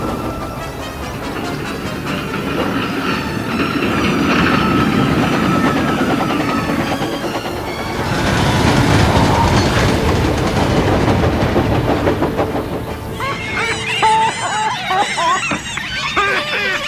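A breakdown train rolls along the rails in Trainz Simulator 2019, a steady rumbling run with clanking wagons, building louder midway before bright squealing, chattering tones take over near the end.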